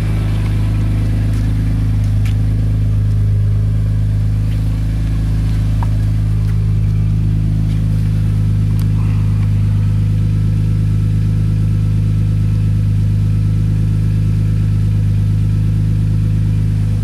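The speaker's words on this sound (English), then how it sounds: "Let's listen to the exhaust." A BMW E46 M3 with about 52,000 miles idles steadily, its exhaust producing a loud, constant low rumble with a few faint clicks and no talking.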